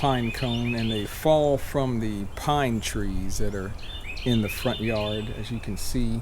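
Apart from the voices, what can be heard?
birds chirping in front yard pine trees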